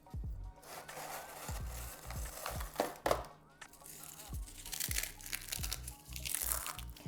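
Saltine crackers crushed by hand inside their plastic sleeve in a kitchen, giving a run of close, crisp crunches and crinkles in uneven bursts, with someone talking over part of it.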